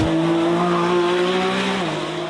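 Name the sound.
Lamborghini Revuelto V12 plug-in hybrid driving on track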